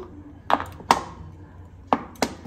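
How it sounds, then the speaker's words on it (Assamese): A bar of homemade papaya soap being cut into small cubes with a knife: four distinct, firm chopping knocks on a board at an uneven pace, close by, over a low background hum, with no talking. "এতিয়া সৰু সৰুকৈ কিউব আকাৰত কাটি ল'ম"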